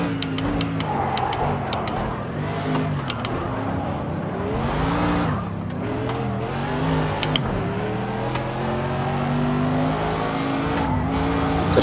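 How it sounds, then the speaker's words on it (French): In the Project Cars 2 racing game, a GT3 race car drifts, its engine note rising and falling through gear changes while the tires squeal and skid steadily, loud and close. "Je pars un petit peu en drift là."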